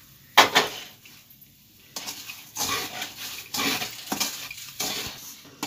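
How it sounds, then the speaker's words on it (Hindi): Roasted besan is stirred into ghee in a pot, producing close, irregular scraping and scooping strokes against the metal with a faint sizzle between them. "ये देखिए, सारा बेसन इसमें मिला देना। ये देखिए, ऐसे ऐसे अच्छी तरह से मिलाना।"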